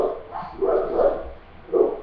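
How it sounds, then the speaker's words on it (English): Dogs bark at a moderate distance, sounding a few muffled, irregular barks over about two seconds against a faint background. "There's my dogs."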